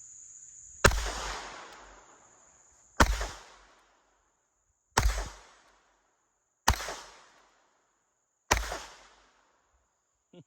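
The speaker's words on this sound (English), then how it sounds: "Let's go ahead and take a few more shots with it." Five sharp pistol shots from a Standard Manufacturing Switch Gun fired at 10 yards, evenly spaced about two seconds apart, each loud crack followed by a short decaying echo, with a faint steady high insect-like hum between shots.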